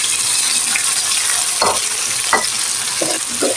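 Vegetables (radish, eggplant, cauliflower, potato) hit a pan of frying spice paste in oil, giving a loud, steady sizzle with a few short scraping stirs.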